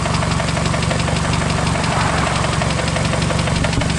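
Rod knock from an engine, picked up through a screwdriver held against the block near cylinder one: a steady, fast metallic knocking repeats over the idling engine's hum, close and continuous.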